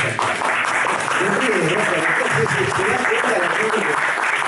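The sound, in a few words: audience applause at a book presentation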